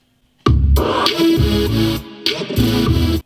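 A fast, punchy, sped-up GarageBand drum loop plays loudly on its own, dense and slightly distorted, with a short drop in level partway through.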